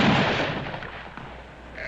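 Gunfire booms in a western shootout, with loud rolling blasts and echoing reports that fade slowly.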